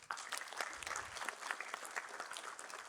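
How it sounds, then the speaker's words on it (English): Audience applause at a tech launch event in Pune, a steady, dense wash of clapping from a crowd heard at moderate distance without a break. "So I think the audience again deserves a big round of applause."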